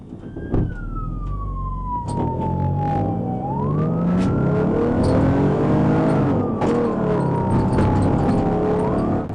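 During a Michigan police chase, a car engine roars and revs up close while a police siren wails and swoops continuously over it, with scattered clunks and road noise.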